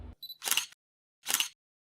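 A camera shutter fires twice at night near Westminster Bridge in London, with Big Ben and the London Eye nearby. Each is a short, crisp, close mechanical click, and they are spaced about a second apart.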